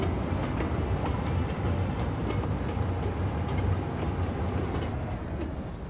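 A train rolls through a city railway station in a city-building game, a steady broadband rumble with faint clattering that holds at an even level throughout, with no talk over it.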